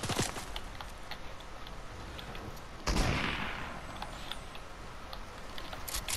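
Gunfire in the Fortnite video game: a sharp shot near the start, then a louder burst of fire around three seconds in, over steady game background noise with no talk.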